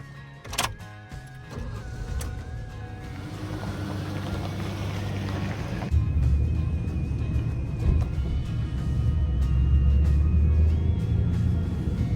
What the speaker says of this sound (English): And now it's time to take the Ford Ranger for a drive.